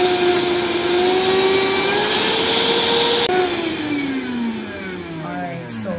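A Vitamix blender running steadily in a home kitchen, a loud whirring motor with a high whine that shifts pitch partway through and winds down toward the end, alone without voices.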